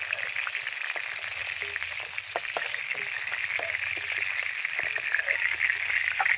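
Chicken pieces frying in oil, a constant hiss of sizzling fat with scattered crackles and pops, close and even throughout.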